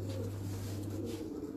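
Pigeons coo softly close by, low throaty calls layered over a steady background hum in a fancier's loft.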